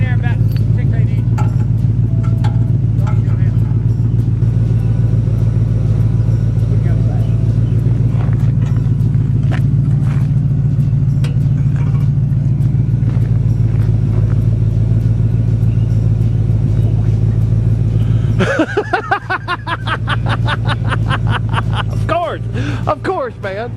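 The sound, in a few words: 1934 five window coupe engine running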